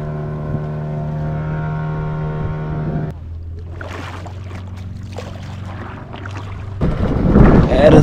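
The motorboat used for parasailing at Malvan runs with a steady droning engine hum that drops in pitch partway through, then water and wind noise rise loudly toward the end.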